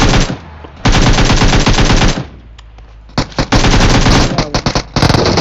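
Loud automatic gunfire in the PUBG Mobile video game: long sustained bursts of rapid shots, a brief lull, then more bursts and short volleys, close and dominant.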